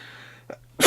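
A single quick sneeze from a man during a conversation about naval ships and books, preceded by a faint intake of breath and ending abruptly.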